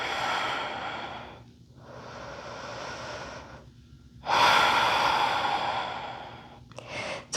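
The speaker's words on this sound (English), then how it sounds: "Inhale, as you exhale," Slow, audible exhalations during a yoga floor flow, long breathy pushes of air separated by short pauses, the last and loudest near the end, close and alone with no talking.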